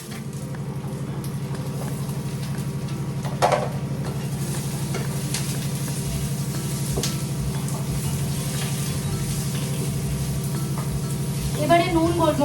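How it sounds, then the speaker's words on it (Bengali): Garlic, green chili, onion and capsicum fry in hot oil with a constant close sizzle, broken by a couple of spatula scrapes and stirs, while a voice talks over it. "পেঁয়াজটা ভাজা হয়ে গেলে দেন সসেসগুলো অ্যাড করব।"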